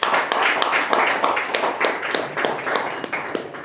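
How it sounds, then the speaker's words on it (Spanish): A church congregation applauding during a sermon, a steady, dense clatter of many hands, moderately loud, with voices mixed in underneath. "denle un aplauso."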